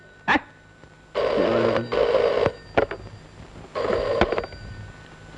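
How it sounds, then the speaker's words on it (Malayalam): A telephone rings loudly late at night in two separate bursts after a short sharp sound at the start, with quiet gaps between. "ആരാടാ ഈ പാതിരാക്ക് ഫോൺ ചെയ്ത് ഡിസ്റ്റർബ് ചെയ്യുന്ന"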